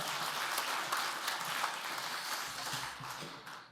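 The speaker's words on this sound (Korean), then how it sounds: "박수로 환영하시겠습니다" Church congregation applauding to welcome a pastor at a men's fellowship prayer meeting, a steady wash of many hands clapping at moderate, distant level throughout.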